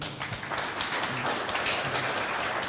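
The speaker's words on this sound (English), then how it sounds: "we would love all of us to give our dear Baba a clap offering." Steady applause from a group fills the whole stretch, a dense wash of clapping at moderate volume with no talking.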